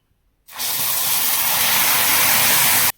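Milk poured onto hot caramelized sugar in a pan for vari rice kheer, bursting into a sudden, loud, continuous hiss that holds steady for a few seconds and then cuts off.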